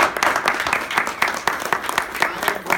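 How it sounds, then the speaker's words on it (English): An audience at a Christmas celebration in Boston claps in sustained applause, a dense patter of many hands at a fairly loud, steady level with a little crowd noise mixed in. "they deserve a big round of applause"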